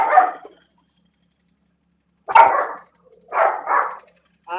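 Puppies bark in short, sharp yips: one at the start, then after a pause a bark followed by two quick yaps close together, near and fairly loud with silence between.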